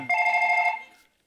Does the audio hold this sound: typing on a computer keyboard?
no